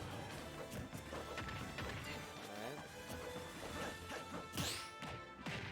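Up smash attack in a Super Smash Bros match at a high school esports playoff final, a dense burst of crashing hits and whooshes over busy game sound, with voices talking underneath.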